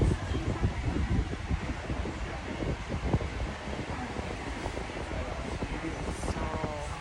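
Wind rushing steadily around an open second-floor aviary pagoda in Yuen Long, a continuous broadband roar with gusty buffeting close to the microphone throughout.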